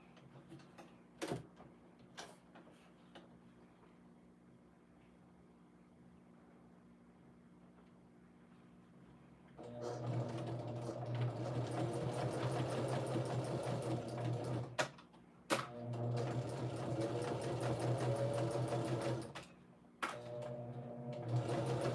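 A sewing machine winds bobbins, its motor starting after a quiet stretch and running in a steady whir for several seconds, with short pauses and restarts near the end.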